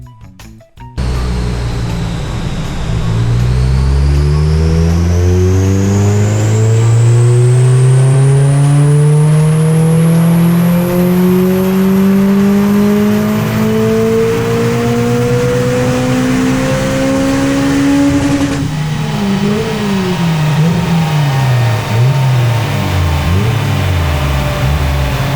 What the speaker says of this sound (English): It's time to get on the dyno so we can get all this started.